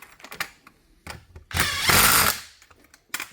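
Power drill boring a hole in a stainless steel solar panel frame, a loud one-second whirring burst between shorter mechanical clicks and taps, close by.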